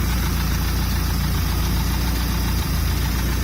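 A boat engine idles steadily nearby, a continuous low rumble with a faint knocking throb and broadband hiss throughout, no voices.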